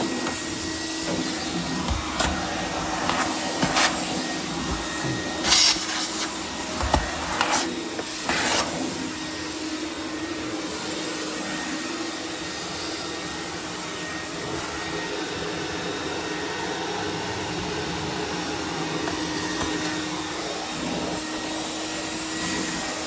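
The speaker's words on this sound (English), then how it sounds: "to use a Hoover." A Hoover vacuum cleaner runs with a steady, sustained whine and drone, interrupted early on by several sharp clunks and bumps as it is moved about during a deep clean.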